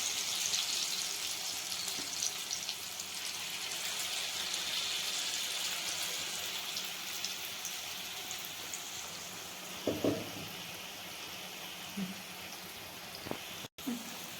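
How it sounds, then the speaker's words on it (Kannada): Okra (bhindi) frying in oil over a medium flame, giving a steady, soft sizzling hiss that runs throughout, with a few clinks of utensils and a voice speaking over it. "ಸ್ವಲ್ಪ ಮೀಡಿಯಮ್ ಫ್ಲೇಮ್ನ ಇಟ್ಕೊಂಡು ಫ್ರೈ ಮಾಡ್ಕೋಬೇಕು."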